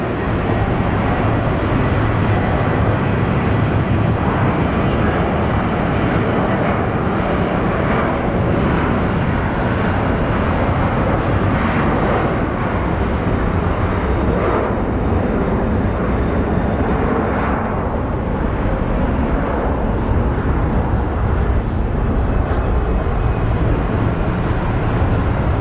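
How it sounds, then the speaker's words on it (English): Airliners take off at Phoenix Sky Harbor airport, a continuous loud, broad jet roar that holds steady for the whole stretch with no break. "Really nice takeoffs."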